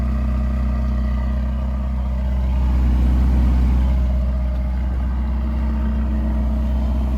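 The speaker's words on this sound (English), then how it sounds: "You can hear that growl from the exhaust." A 2016 Ferrari California T 3.9-liter twin-turbo engine idles close by with a deep, steady rumble, swelling slightly in the middle with a low growling exhaust tone.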